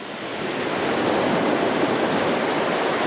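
Ocean surf at Laguna Beach washing over a found ring as it is rinsed: a loud, steady broadband wash of breaking water and wind, with no voices.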